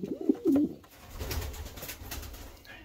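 A racing pigeon coos close by in a loft, a couple of low throaty calls near the start, followed by quieter rustling and shuffling.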